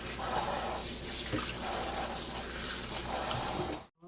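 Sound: washing napa cabbage leaves in water

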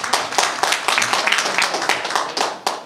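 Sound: audience applause at a ceremony

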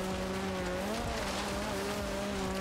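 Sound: small sports car driving fast in the Forza Horizon 3 video game

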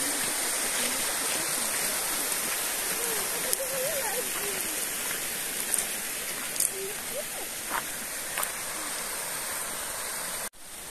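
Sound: river stream flowing below a cliffside path

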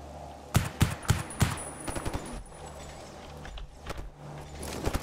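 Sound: gunfire from Monolith enemies in video game STALKER Anomaly

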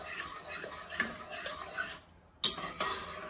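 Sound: stirring pasta sauce with basil in a pot

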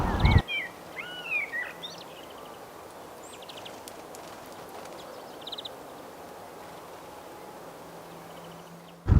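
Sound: birds singing in a village garden

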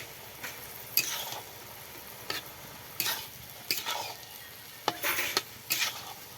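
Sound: stirring potatoes with cumin and coriander powder in pan

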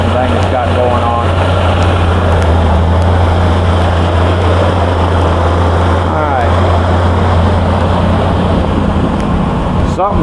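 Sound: Ford F600 engine idling after cold start

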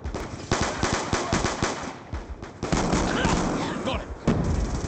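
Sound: gunfire in the video game Call of Duty Black Ops II

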